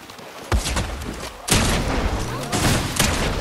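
Rapid gunfire in a video game as players shoot at a llama, several loud booming bursts in quick succession, close and heavy, with faint voices underneath.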